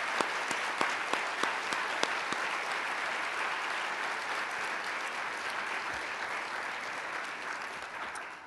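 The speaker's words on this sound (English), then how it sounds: "Please join me again with a round of applause." Audience applause at the International Women of Courage celebration, a loud, sustained sheet of clapping with a few sharp individual claps near the start, fading slightly at the end.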